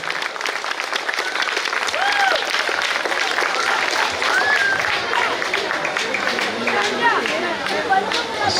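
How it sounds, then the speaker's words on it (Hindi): Loud, sustained applause fills a community hall at a Maharashtra Idrisi Darji Association program in Malad, with crowd noise underneath. "जोरदार तालियों के साथ में"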